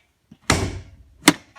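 A 2005 Toyota Corolla bonnet release lever is pulled, giving a sharp thunk as the bonnet pops, followed by a second brief clack; close and fairly loud, with no talking.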